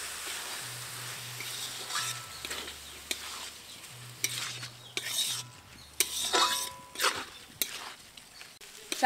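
Washed rice and lentils are stirred into fried, spiced chicken in a pot for chicken khichuri. Spoon strokes scrape and clink against the pot in bursts over a soft, steady sizzle.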